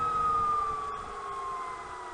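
Electric motor of a 2020 Zener-Ecite all-electric project trike cruising at about 30 mph and 2,600 RPM: a steady, fairly loud high whine that drifts slowly downward in pitch throughout, with soft road rumble beneath.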